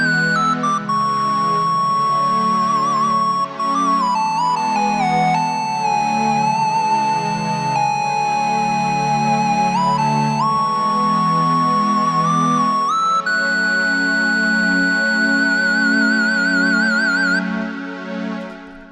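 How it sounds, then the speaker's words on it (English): Analog-style string pad synthesized in Harmor, holding a steady, thick sustained chord while a bright gliding line shifts pitch above it, loud and continuous throughout with no talking. "today we're going to be taking a look at making some analog pad strings in Harmor."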